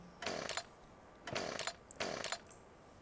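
A chainsaw in Farming Simulator 15 revs in three short bursts, each a rough buzzing roar cutting into wood, with brief pauses between them.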